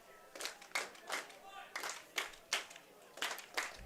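A crowd at a Bend Elks at Nanaimo NightOwls baseball game claps in a quick, loosely rhythmic pattern, heard faintly from a distance for a few seconds.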